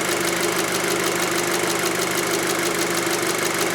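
A 2006 Volkswagen Passat 2.0T engine, diagnosed with a broken signal wire to the fuel rail pressure sensor and a loss of power, idles steadily and close up with a constant mechanical hum and light ticking throughout.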